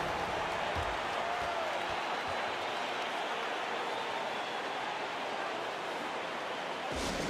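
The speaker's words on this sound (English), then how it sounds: "Fans, please give a big round of applause for your youth dance squad." Sustained crowd applause fills a basketball arena in NBA 2K24, a steady broadband roar of clapping and cheering that holds evenly throughout at moderate level with no break.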